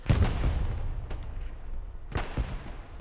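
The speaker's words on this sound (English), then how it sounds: "Already shelling down now." Artillery shells land during a Hill 400 match in Hell Let Loose, with a few heavy thuds and booms spaced apart over a low rumbling battlefield background.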